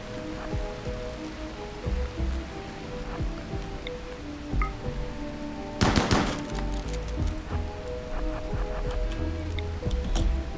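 Steady rain patter in the RimWorld game soundscape, with a burst of sharp gunfire-like cracks in the middle and scattered clicks throughout.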